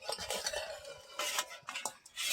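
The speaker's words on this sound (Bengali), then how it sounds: "এবার আমি ঢাকা খুলে নেব।" A metal lid comes off a village cooking pot of jhinuk (freshwater mussels), giving a few close clinks and scraping clatters of metal on metal, with no voices.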